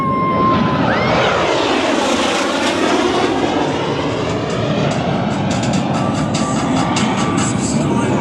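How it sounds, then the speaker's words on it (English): Blue Angels jets roar past the flight line at a Cleveland airshow at about 400 mph, a loud, continuous broadband jet rumble that swells and shifts in pitch as the aircraft close in, with no talk over it. "Blue Angels 5 and 6 are approaching the flight line at 400 miles per"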